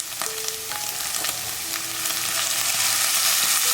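Preserved mustard greens stir-fried in a hot wok with garlic, a loud, continuous close sizzle with scraping stir strokes, steady and rising slightly toward the end, no talk.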